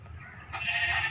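A sheep bleats in the Minecraft video game, one short nasal bleat rising clearly over a faint low background hum.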